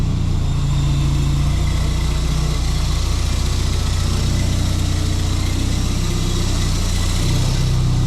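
A car engine idles steadily at close range, running rough on four cylinders after its spark plugs were cleaned, a constant low rumble with no talk throughout.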